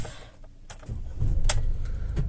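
Mercedes Vito van with a Ghost 2 immobiliser starting up: a short crank and the engine catching into a low idle, with a few clicks and sharp ticks nearby and no one talking.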